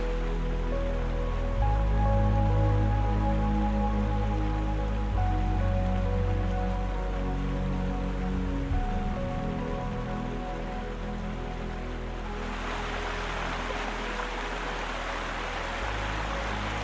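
A mountain stream rushes through Val Venegia in the Dolomites, swollen with plenty of water: a continuous, loud hiss of flowing water with a low rumble beneath and no voices.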